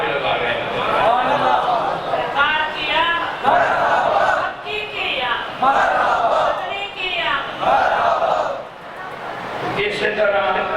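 Crowd at a Rabi ul Awal religious procession rally chanting slogans in loud, rhythmic call-and-response bursts, voices rising and falling in repeated waves close by.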